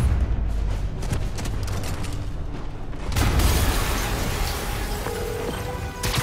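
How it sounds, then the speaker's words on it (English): A loud, rumbling explosion in Marvel's Spider-Man, a sustained broadband roar with a heavy low-end surge partway through and debris-like crackle, no voices. "an explosion just..."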